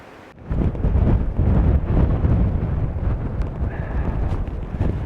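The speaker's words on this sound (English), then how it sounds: "It's a bit windy." Strong wind buffeting the microphone on the exposed coastal cliff path at Stepper Point near Padstow, Cornwall, a sudden loud rumbling roar that starts abruptly and keeps gusting steadily, with no voices.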